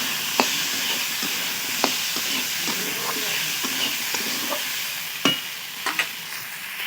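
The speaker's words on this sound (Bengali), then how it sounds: "ভালো করে লঙ্কাগুলো দিয়ে এক মিনিট নাড়াচাড়া করে ভেজে নেব" Chili powder stir-fried in oil in a pan for a vegetarian ridge gourd dish, a steady hiss of frying broken by sharp spatula clicks and scrapes, close and continuous.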